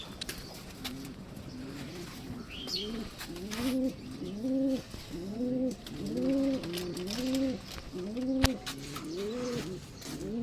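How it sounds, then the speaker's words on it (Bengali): Pigeons coo repeatedly in soft, rhythmic bursts, one call following another, with faint background noise and an occasional click. "এখানে কালারিং কবুতর যা দেখতেছেন সব উড়ে"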